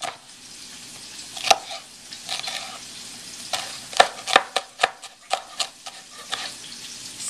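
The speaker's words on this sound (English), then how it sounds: "And then just slice it up. Just a rough chop, doesn't really matter." A knife roughly slicing and chopping a pepper on a cutting board, a run of sharp, irregular knocks that come faster and louder in the second half over a steady kitchen background hiss.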